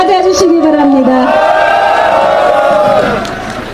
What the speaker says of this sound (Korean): 박수와 함성으로 맞아주시기 바랍니다.